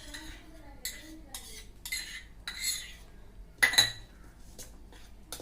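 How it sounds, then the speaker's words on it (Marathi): A spoon clinks and scrapes against a bowl while two spoons of ghee and two of flour are stirred together for homemade wheat khari, several close metallic taps and scrapes. "आता आपण हे मिश्रण एकत्र करूया।"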